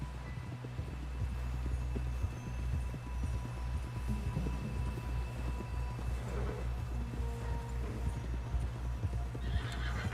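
Horse in Red Dead Redemption 2 galloping with rhythmic clip-clop hoofbeats and a loud neigh, over a low ambient hum.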